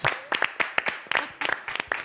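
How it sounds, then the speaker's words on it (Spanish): A small group claps in uneven bursts to welcome Lourdes Sánchez to a studio set, the scattered handclaps close by and moderately loud, with pauses between flurries. "un aplauso para Lourdes Sánchez"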